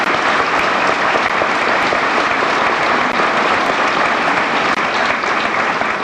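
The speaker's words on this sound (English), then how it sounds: "So they all deserve a very special warm applause." Warm, sustained applause from a large audience at a 1989 high school graduation ceremony, steady and dense throughout without any speech over it.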